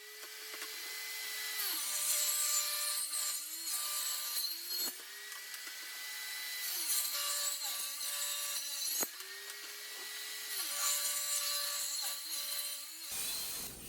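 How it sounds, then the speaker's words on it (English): Table saw ripping hard maple boards into strips: a loud motor whine drops in pitch under load as each board feeds through, with bright cutting noise over roughly three successive passes and no talking. "I'm going to take my boards to the table saw and I'll be ripping the hard maple into 1 5/8 inch"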